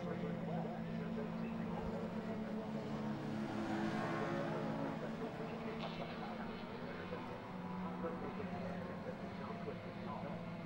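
Pre-1966 classic touring cars, among them an Austin A40, race at Donington Park. A continuous blend of engine drone from the pack sits at middle distance beneath steady commentary.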